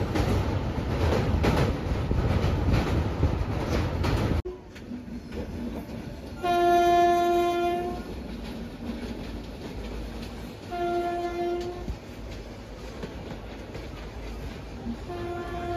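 A long-distance passenger train from Jammu and Kashmir to Kolkata in India, with a loud rumbling roar for the first few seconds, then a quieter steady running noise broken by several sustained horn blasts.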